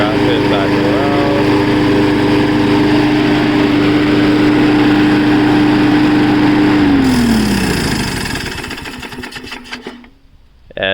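A small petrol lawn mower engine runs loud and close with a steady buzzing hum, then winds down, sputters and cuts out near the end.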